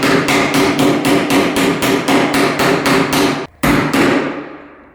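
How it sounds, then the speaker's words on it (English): A hammer strikes a Ryobi door hinge jig on a door, about a dozen sharp, evenly spaced blows close up, a short pause, then one final hit that rings out and fades. "And then all you want to do is just get your hammer."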